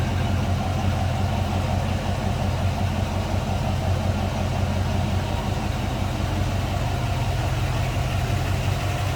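A 1970 Buick Electra 225 Custom Convertible engine idles steadily with a continuous low, rumbling drone, close by and unchanging, with no voices.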